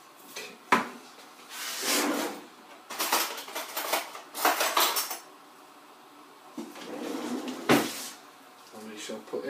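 Teaspoons and utensils clatter and clink against containers while yeast nutrient and citric acid are measured out for home-brewed tea wine, in several sharp bursts with pauses between, alongside someone talking.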